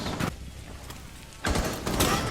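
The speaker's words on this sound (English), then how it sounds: "That's a flashbang" Flashbang grenade bursting in a video game: a sharp blast cuts in, then a wide, loud, sustained hissing roar holds to the end, following a brief earlier pop over low background noise.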